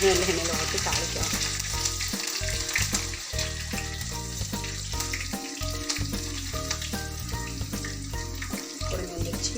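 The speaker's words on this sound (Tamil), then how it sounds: "அது நல்ல எண்ணெயில் ஊற்றி தாளிக்கிறோம்." Curry leaves, green chilies, cumin and black pepper sizzle and crackle steadily in hot sesame oil for tempering, a close, continuous frying hiss with occasional stirring and no talk.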